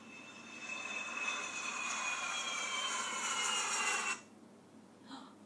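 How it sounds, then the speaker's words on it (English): A jet aeroplane roars overhead, a steady broad whoosh building slightly before cutting off abruptly, leaving near silence. "Did you recognise that sound? Yes, an aeroplane."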